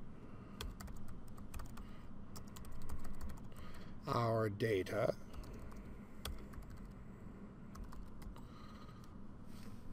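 Rapid clicking of keys on a computer keyboard, quiet and close, with a brief spoken phrase in the middle.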